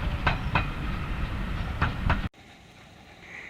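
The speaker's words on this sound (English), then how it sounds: "our first train of the day is seen arriving here into Burst Country Park" A steam train rolls into Burrs Country Park station on the East Lancashire Railway with rhythmic clickety-clack wheel beats over a low rumble, then it cuts abruptly to quieter background noise.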